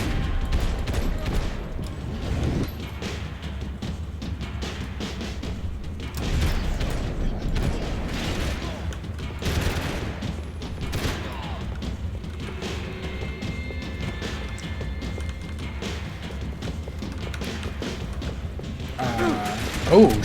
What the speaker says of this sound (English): We are going to have to peek out and shoot some people here.